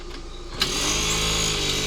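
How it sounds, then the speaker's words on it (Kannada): A scooter engine catches after a kick-start and settles into a steady, close, continuous running drone. "ಕಿಕ್ ಕೊಡಿ ಫಸ್ಟ್."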